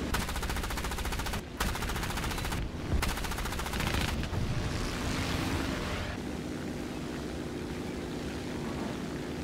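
Aircraft machine guns fire in the War Thunder game, loud rapid bursts broken by short pauses over a constant propeller engine drone, followed by a sustained engine roar.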